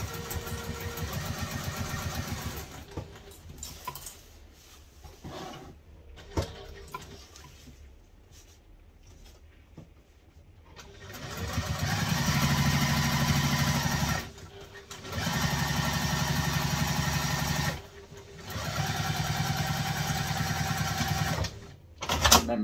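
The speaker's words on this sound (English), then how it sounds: "So now sewing over the flap." Sewing machine stitching across a fabric wallet flap in short runs, with stretches of fast steady motor whirring broken by pauses and quieter stop-start sewing earlier, heard close up and without speech.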